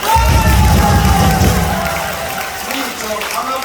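Crowd applause and cheering at an outdoor rally in Jinju, a loud sustained roar of clapping and shouts that gradually eases over a few seconds.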